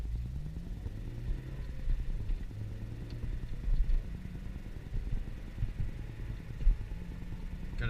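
The mau5mobile car pulls away with its engine still cold, a low steady engine rumble with slight clatter rising gently under light throttle, fairly close and without talk.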